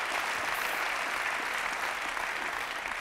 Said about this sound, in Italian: qui non serve l'applauso